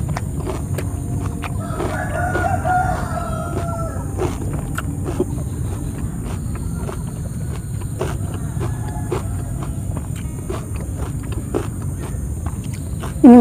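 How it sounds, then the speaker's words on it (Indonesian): Chickens and roosters in the early morning, with scattered clucks and faint crowing calls rising over a steady low rumble of background noise, no one talking. "Ini masih pagi guys, jadi banyak suara ayam."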